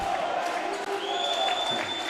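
Wildcat cheering section roaring on its feet at a Florida high school boys volleyball championship, a steady wash of crowd noise with whistles and shouts over faint commentary.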